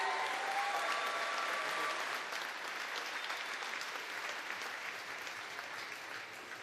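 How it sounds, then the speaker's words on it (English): An audience at the 2014 Scottish National Open Swimming Championships applauds, a steady wash of many hands clapping that gradually eases off. "Let's have a massive round of applause for Richard Schaefers."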